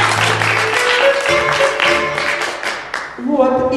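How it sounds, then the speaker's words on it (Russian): Applause at a Purim gathering, a dense wash of clapping heard under music that carries sustained tones, steady for several seconds before a brief dip and then picking up again. "Аплодисменты, пожалуйста"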